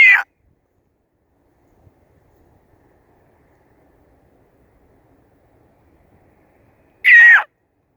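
A hawk gives two short, clear, descending calls, one at the start and one near the end, separated by quiet.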